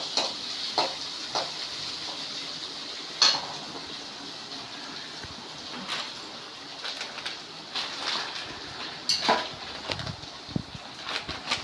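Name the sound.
onions and tomatoes sautéing in a pan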